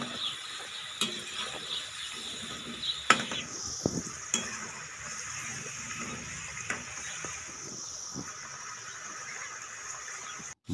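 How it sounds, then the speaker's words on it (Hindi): Potato finger fries frying in ghee for street-style masala fries, a soft steady sizzle with occasional light clinks and stirring taps, fairly quiet and close. "घी के अंदर इसे अच्छे से फ्राई कर लेना है।"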